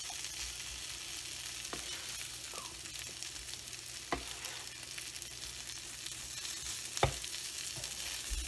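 Fajita ingredients frying on a griddle, a soft, even sizzle with a few sharp scrapes and clicks as they are mixed together, fairly quiet and without talk.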